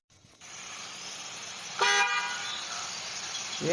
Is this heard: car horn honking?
yes